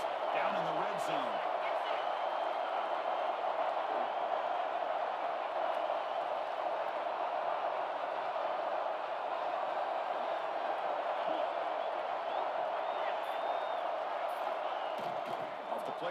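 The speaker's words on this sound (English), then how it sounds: "the crowd coming to life here, trying to help this defense down in the red zone" A college football stadium crowd at a Texas vs Alabama game roaring to back the defense in the red zone, a dense, steady wall of distant cheering beneath an announcer's commentary.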